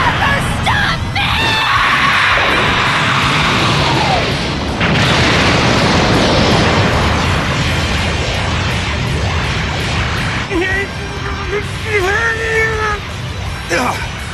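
A Spirit Bomb energy attack explodes in a Dragon Ball Z film, a long, loud roaring blast with crashing booms and rushing noise that rises and swells over several seconds, with shouting voices and a whining tone near the end.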